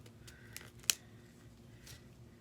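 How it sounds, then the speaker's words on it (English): Scissors snip the plastic tube casing off an ink marker in a quiet indoor setting, a single sharp close click standing out against faint rustling, with no talking. "We want to go ahead and cut that off."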